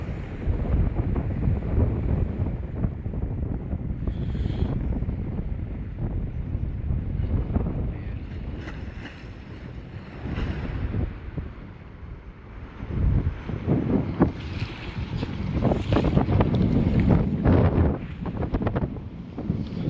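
Strong wind buffets the microphone on the beach at Paracale in Bicol, a continuous roaring rumble that swells and eases in gusts for the whole stretch, with no voices.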